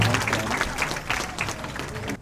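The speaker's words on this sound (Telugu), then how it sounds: "మనం మొదటిగా ఆ యొక్క దేవాతి దేవుడికి గట్టిగా చప్పట్లు కొట్టి" A congregation at the inauguration of a new priests' residence for St. Anthony's in Durveshi village, Kurnool, bursts into loud, dense applause for a couple of seconds, with some voices mixed in before it cuts off.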